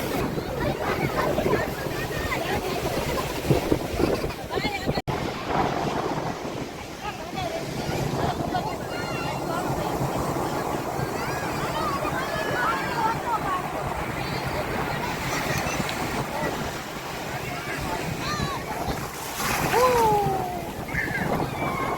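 Sea waves wash in at a beach near Somnath, a continuous surging roar mixed with gusty wind noise on the microphone, with voices faintly audible in the background.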